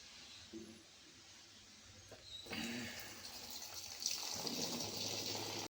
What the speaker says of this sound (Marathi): आपण त्याच्यात थोडासा पाणी ओतू आणि नंतर मग पिळून घ्या